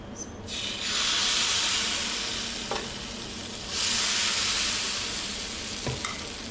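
Palappam batter poured into a hot pan, a loud sizzling hiss that rises, fades, then swells again, with a couple of light taps of the pan.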